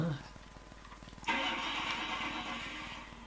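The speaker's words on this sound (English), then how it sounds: "So you ring the bell and you get a car rev up" A car engine revs up in a CD-i video game right after a bell rings, a sudden loud surge of mid-pitched engine noise that holds steady for about two seconds over a quieter rhythmic background.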